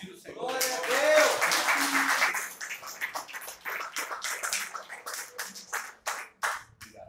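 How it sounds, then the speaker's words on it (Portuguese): A church congregation applauds during a worship service, scattered claps building into a sustained, uneven patter after a voice speaks, moderately near and lively. "Você pode aplaudir o Senhor"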